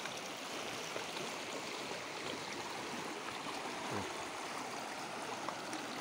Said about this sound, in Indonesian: Ini sungainya terlalu deras